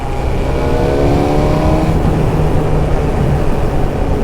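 A small Suzuki four-cylinder motorcycle engine revs loud and close, holding a steady, dense howl whose pitch climbs and swells without a break.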